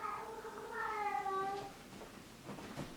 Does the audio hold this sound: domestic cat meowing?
yes